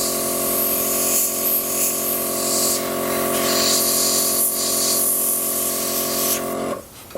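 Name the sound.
airbrush spraying chrome silver paint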